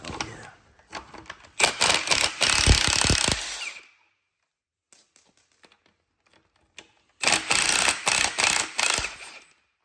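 Rapid ratchet clicking works swivel sockets on a lifted 6.0 Power Stroke truck, two loud close bursts of quick ratcheting separated by a quiet pause with faint scattered clicks.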